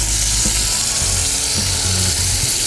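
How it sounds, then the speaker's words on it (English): Prawns with garlic sizzle in a hot frying pan, a steady, close frying hiss with faint low knocks and no talking. "We'll get our prawns in there and let those cook away."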